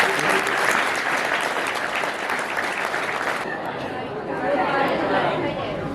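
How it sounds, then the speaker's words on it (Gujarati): A classroom of students claps loudly and energetically in a sustained burst of applause that eases and then swells again, with chatter mixed in underneath. "ચાલો 15 વિદ્યાર્થી જોરદાર તાળી પાડતો આ લોકો માટે"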